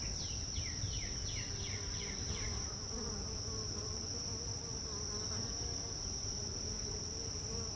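A steady, close buzz of honeybees at a hive hums continuously, with a few faint chirps early on over a low background rumble.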